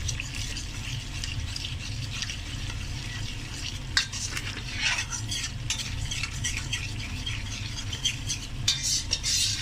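Yogurt being stirred into a spice masala in a pan produces a low, continuous sizzle with repeated scraping and clicking strokes of a spoon, close and without voices.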